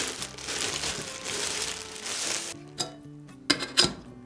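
Crinkling and rustling of packaging as a boxed FELLOW Stagg EKG electric pour-over kettle is opened, a steady papery crumple followed by a few sharper crackles and taps near the end.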